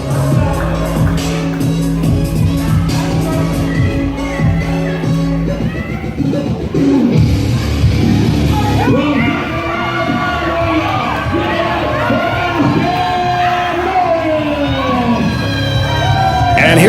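A wrestling crowd cheers and whoops for Ashton Morris's entrance at a TWF show, a steady wash of shouting and applause filling the hall while music plays and an announcer talks over it.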